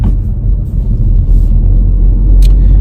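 Interior of a manual car driving steadily, low engine and road rumble dominating close up, with a brief faint high tick near the end as the driver shifts into second gear.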